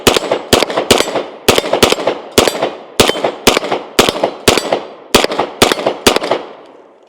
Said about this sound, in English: Let's go ahead and fire our last mag through the gun.